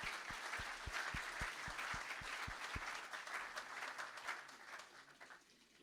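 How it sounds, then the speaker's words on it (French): A church congregation gives faint, distant applause to first-time visitors, a soft wash of clapping with a run of regular low thumps early on that trails off near the end. "Est-ce qu'on peut acclamer, applaudir ceux qui viennent pour la première fois?"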